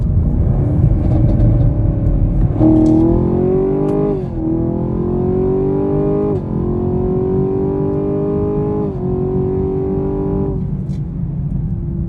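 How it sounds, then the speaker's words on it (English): A 2022 Camaro 2SS 1LE V8 pulls hard in second gear, its loud, steady engine note climbing through the revs with brief dips at the shift points and a strong low exhaust rumble throughout. "I'm gonna get you guys a second gear pull"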